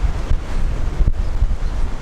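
Heavy wind buffeting a microphone outdoors beside a BMW R nineT Scrambler motorcycle, a loud, low, continuous rumble with gusting surges and no voices.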